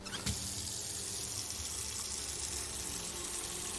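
Water fills a container in the video game Autopsy Simulator, a steady tap-like rush running continuously at moderate level after a short knock at the start, with no voices.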